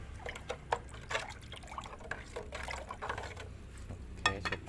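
Liquid fertilizer mixture for grapevines being stirred, with soft irregular sloshing and splashing strokes, fairly quiet and close, with no talking.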